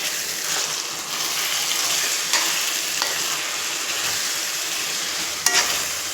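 Chicken pieces cooked with cauliflower in a covered pan, giving off a loud, constant sizzling hiss with a few sharp clicks and pops.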